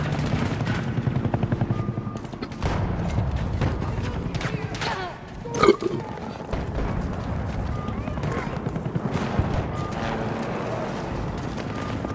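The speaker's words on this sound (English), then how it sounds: "Hostile helo located." A helicopter in the shooter Battlefield 2042 gives a steady rotor thrum under continuous game radio chatter and voices, with a sharp mechanical clatter midway and occasional impacts.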